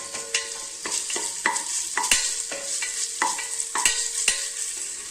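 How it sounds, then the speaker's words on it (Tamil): Onions sautéing with ginger garlic paste in a pan for rice pulao, with a steady sizzle and repeated scraping stirs from a spatula at a quick, even rhythm, close and alone. "நம்ம இஞ்சி பூண்டு பேஸ்ட் போட்டுக்கலாங்க. இது நல்லா கொஞ்சம் வதக்கிக்கலாம்."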